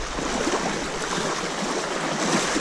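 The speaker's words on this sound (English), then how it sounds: "Now this water's doing some rumbling." Creek water rushing and rumbling, a dense, steady wash of churning flow that stays loud and close throughout, with no voices over it.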